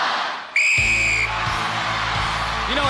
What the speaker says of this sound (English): Great Britain, you will go on my whistle.